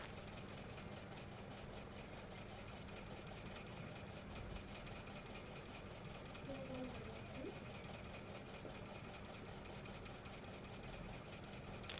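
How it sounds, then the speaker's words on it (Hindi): A sewing machine runs a steady, even stitch around the neckline of a frock, a continuous mechanical whir at a constant pace and low level throughout, with faint background noise. "पूरे नेक पर हमें लब की सिलाई लगा देनी है"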